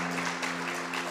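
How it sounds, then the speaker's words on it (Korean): A church congregation at a Sunday service claps together to welcome a baby, a dense and even burst of applause that lasts about a second. "여러분 박수로 한번 우리 환영해 주시겠어요?"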